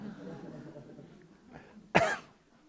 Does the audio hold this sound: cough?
yes